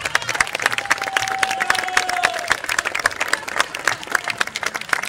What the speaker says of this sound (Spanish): Un aplauso fortísimo para estos grandísimos músicos